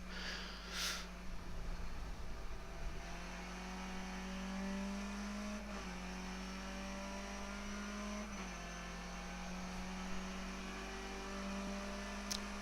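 A Skip Barber race car's engine in the iRacing sim at Donington Park drones steadily and loudly, its pitch stepping down at two points as gears change, with another car's engine underneath and no talking.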